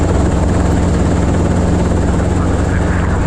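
A helicopter roars loud and close with a steady rotor and engine drone throughout, heard from inside during takeoff clearance, with faint radio voices under the noise.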